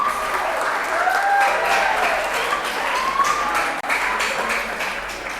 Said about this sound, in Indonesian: Kita boleh tepuk tangan dulu yang meriah